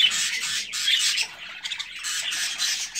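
A group of newly arrived budgerigars, including crested albino females, squawks and chirps continuously in a shrill, busy chorus close by, with no speech.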